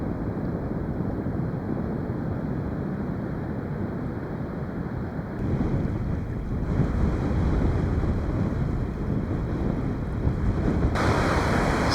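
Waves breaking and washing up a wild beach on Auckland's west coast, a continuous rushing surf roar with wind buffeting the microphone, swelling louder partway through.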